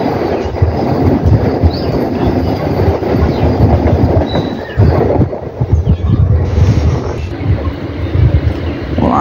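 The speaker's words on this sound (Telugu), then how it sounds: "అదిగోండి Vande Bharat train, India Chennai central to Vijayawada Vande Bharat express" A Vande Bharat Express running from Chennai Central to Vijayawada rushes past at close range, loud and continuous, with rail clatter and rumbling wheels filling the whole stretch.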